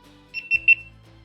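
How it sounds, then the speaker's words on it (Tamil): A GoPro Hero 13 Black action camera powers on with three short, bright electronic beeps in quick succession, close and clear against a quiet background. "ஒரு 3 பீப் சவுண்ட் வருதுங்க"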